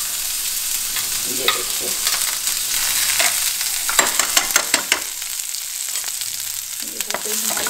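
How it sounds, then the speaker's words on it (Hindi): Chopped onion sizzling and crackling in an already hot frying pan used earlier for dal, a steady dense fry with stirring scrapes, while someone speaks briefly over it. "जैसे ही गरम है, गरम गरम में हम इसमें अनियन डालेंगे।"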